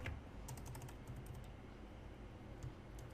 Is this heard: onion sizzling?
no